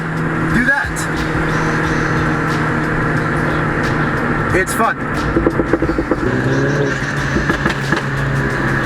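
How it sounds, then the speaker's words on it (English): A Mini Cooper drives in an echoing space, its engine droning steadily as sharp turbo whooshes and blow-off bursts cut in repeatedly, with a voice talking briefly over it. "when they hear me hopping like that, making these whooshy turbo noises"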